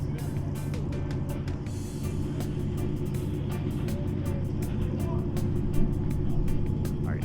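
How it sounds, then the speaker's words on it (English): Steady traffic rumble from cars passing along a street in downtown Nassau, Bahamas, a continuous low drone with faint voices and street noise mixed in, no single vehicle standing out. "Hear the cars there."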